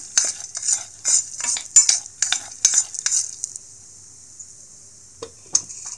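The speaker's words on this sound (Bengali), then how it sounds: "তারপর আমি এগুলো একটা হালকা ভাজা দিয়ে নেব।" Gatta pieces being lightly fried and stirred in a pan, with a steady sizzle under repeated scraping and clinking strokes of a utensil, then a quieter stretch with a couple of isolated clinks near the end.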